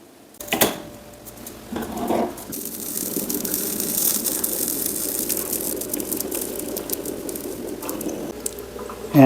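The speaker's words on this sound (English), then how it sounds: "Now it's starting to steam." Water heating to a boil in a coffee maker in Brazil, a steady hissing, bubbling rush that fills the clip close up with a faint rattle, starting after a brief knock near the beginning.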